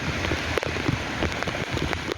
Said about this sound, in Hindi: बारिश का पानी इसी टैंक में जा रहा है